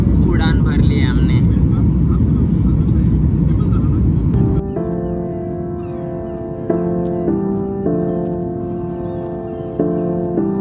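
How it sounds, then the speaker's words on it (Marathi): A passenger airplane takes off, heard from inside the cabin: a loud, continuous engine roar for about four seconds that then cuts away to a quieter, steady tonal hum. "उड़ान भर ली हमने."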